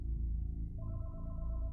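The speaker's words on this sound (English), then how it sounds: "Then, the phone in the house began to ring" A house telephone rings inside a home, a steady electronic tone rising in pitch partway through and sitting over a low, dark rumbling background, moderately loud and with no voices.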